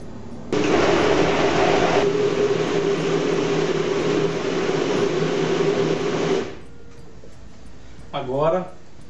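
Blender whirring liquid ingredients and corn for a pamonha cake batter, a loud steady motor roar that shifts tone after a couple of seconds then cuts off, followed by a voice.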